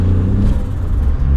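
Turbocharged 1-litre Daihatsu Charade GTti hot hatch accelerating, a loud steady low engine drone heard from close by with no speech.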